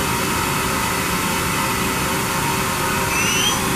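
A Mori Seiki NT6600 lathe spindle running at 3500 RPM, a steady broadband whir with a high tonal whine that rises slightly near the end, continuous and close with no voices.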